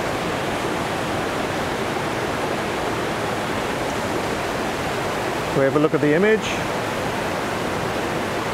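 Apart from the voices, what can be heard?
waterfall on Vancouver Island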